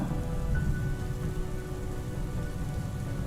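Steady rain pattering on a surface, a continuous dense hiss of drops with no voices, evenly loud throughout.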